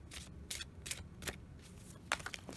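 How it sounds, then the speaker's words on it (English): Oracle cards are shuffled by hand in short, crisp riffling bursts, roughly five or six quick flurries of papery rustle at close range, with a denser flutter near the end. "Easy to shuffle."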